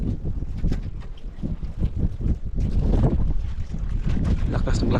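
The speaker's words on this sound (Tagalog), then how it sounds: "malakas na naman yung hangin" Strong wind buffets the microphone with a heavy, rumbling roar that surges and gusts continuously, boat and water noise mixed underneath, out on a fishing boat.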